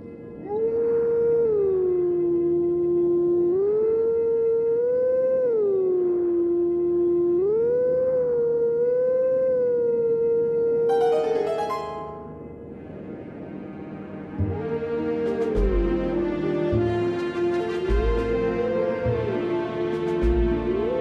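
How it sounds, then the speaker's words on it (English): Wolf howls in the video game Zelda: Twilight Princess, several long rising-and-falling loud tones in sequence, then a swell of orchestral music with deep drum hits joining the melody. "The last howl. Let the orchestra begin."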